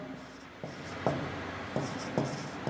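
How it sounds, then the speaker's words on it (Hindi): Chalk or marker strokes on a board while writing out an English example sentence, with several short scratchy strokes at an uneven pace, close by and steady, with no talk. "मैं लिखता हूं"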